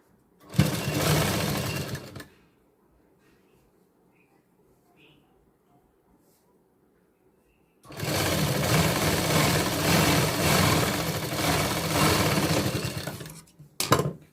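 A sewing machine stitches a size 44 princess cut blouse in two close, steady whirring runs: a short burst near the start, then a longer continuous run after a quiet pause, with no talking.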